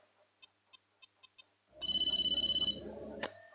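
Telephone ringing in a Hindi Bollywood action film: a few short, soft chirping rings, then one loud, sustained electronic ring burst that cuts off abruptly.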